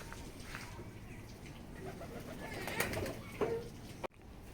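Pigeons on a rooftop coo softly and repeatedly at a moderate distance, their low calls rising a few times over a faint outdoor background.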